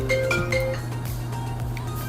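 A mobile phone rings in a home kitchen during cornbread preparation, with a short melodic electronic ringtone of repeating tonal notes over low background hum, fairly close and without talk.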